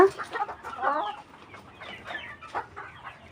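Hens in a coop where two have just laid eggs, giving soft, scattered clucks and murmurs at close range, moderate in loudness, with no talking.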